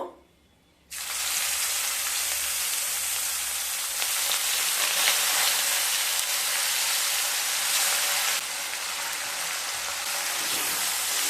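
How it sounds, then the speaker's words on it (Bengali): Hot oil with cardamom, cloves and cinnamon bursts into a loud, steady sizzle as ground onion from two medium onions hits the pan for a traditional komola katla fish dish, the frying hiss continuing close and unbroken. "তেল থেকে যখন সুন্দর একটা স্মেল বেরোতে শুরু করবে, সেই সময় বেটে নেওয়া 2টো মিডিয়াম সাইজের পেঁয়াজ দিয়ে দেব।"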